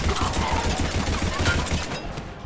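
Rapid gunfire in Mass Effect 3 combat, a dense, continuous rattle of shots at close range that thins out toward the end, with no talking.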